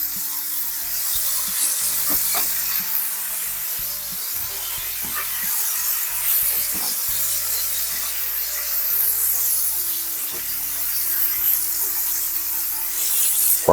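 Garlic sizzles in a hot pan alongside searing tilapia, giving a continuous hissing crackle at an even level over faint background music, with occasional light scrapes and taps.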